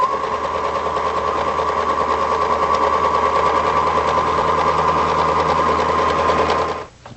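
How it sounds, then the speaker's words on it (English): A sewing machine runs in one continuous, loud, steady whir, stitching upholstery fabric for a designer ottoman from the center outward, then stops abruptly near the end. "start in the center and we'll sew the other direction"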